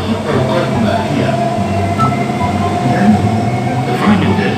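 A Dubai Metro train rolls along with a steady, loud rumble and hum from inside the carriage, a constant drone that stays even throughout.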